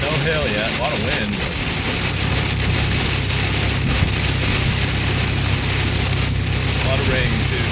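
Heavy rain pours steadily during a tornado-warned supercell thunderstorm in Indiana, a dense hiss with gusting wind, and a voice speaks briefly underneath.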